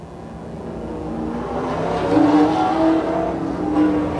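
Late model race cars roar around a track under caution, their engines droning and building steadily as the pack approaches and passes.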